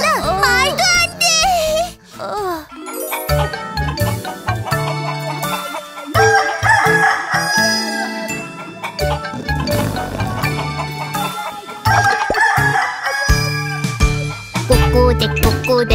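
A children's animal song with chicken sounds: clucking hens and a rooster's crow woven through bright, busy music, loud and close.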